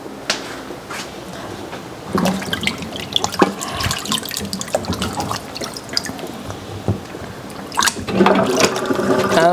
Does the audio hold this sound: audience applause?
no